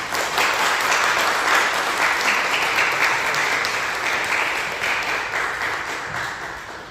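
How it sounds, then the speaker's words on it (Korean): A congregation at a church pastors' seminar claps loudly to welcome the guest speaker onto the stage, with thick continuous applause that slowly fades over about seven seconds. "여러분 크게 박수로 환영을 해주시면 감사하겠습니다"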